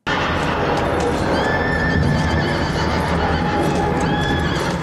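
A horse whinnies in a scene from the 1985 film Legend, over a loud, constant rushing background noise, the neigh faint and partly buried.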